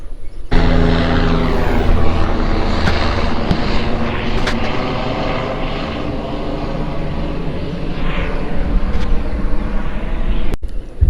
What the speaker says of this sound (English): the helicopter's gone